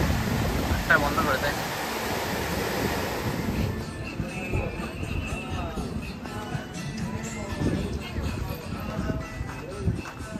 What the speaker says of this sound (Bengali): এখানেই পারে সিঁড়ির ওপর সমুদ্রের ঢেউ আছড়া খাচ্ছে